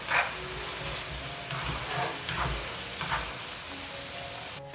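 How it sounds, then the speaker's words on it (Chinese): Sachima dough deep-frying in hot oil gives a steady, bright sizzling hiss with a few soft surges of bubbling, moderately close and uninterrupted. "油温5、6成热就可以放进来炸。 我分成2锅来炸， 炸到膨胀就可以啦"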